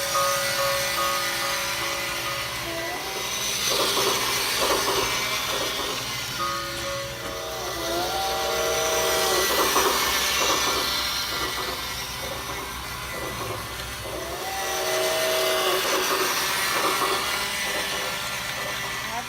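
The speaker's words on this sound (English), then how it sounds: "let's go ahead and let the train run" A small electric motor whirs steadily with a rattling clatter of wheels on track, rising and falling in pitch as a Disney Railroad toy train set circles continuously, running backwards.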